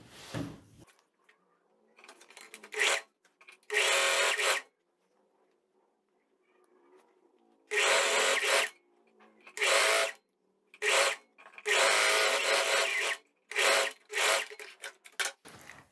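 A sewing machine stitching the lining seam of a tailored vest runs in loud, close whirring bursts of a second or two, separated by silent pauses, with no talking.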